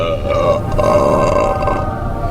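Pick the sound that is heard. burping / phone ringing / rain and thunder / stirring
burping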